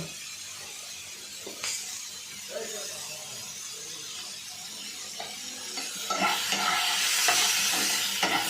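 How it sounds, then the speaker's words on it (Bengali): Mango pieces sizzling in a kadai for a chutney, a quiet crackle with occasional scrapes of a stirring spoon, the frying growing louder and hissier toward the end, no voices. "এবার আমটা দিলাম কড়াইয়ে, একটুখানি নেড়ে চেড়ে দেওয়ার পর"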